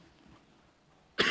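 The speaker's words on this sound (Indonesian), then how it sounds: "Saya ini masih batuk juga." A single sudden cough bursts out close and loud at the very end after a quiet, near-silent stretch.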